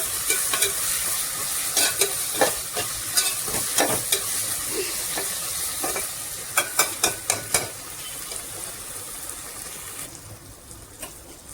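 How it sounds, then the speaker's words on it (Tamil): Tomatoes sautéing with rock salt in a pan for a vada curry, with a constant bright sizzle and repeated sharp scrapes and clacks of a spoon stirring, close and fairly loud with no voices. "கொஞ்சம் கல் உப்பு போட்டுக்கோங்க. நல்லா வதங்கணும் தக்காளி."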